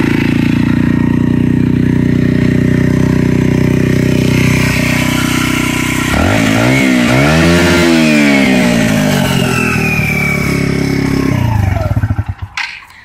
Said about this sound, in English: that was it, hitting the rev limiter